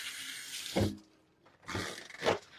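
Hands are washed under a running kitchen tap, water gushing and splashing in two bursts separated by a brief quieter pause, close and fairly soft.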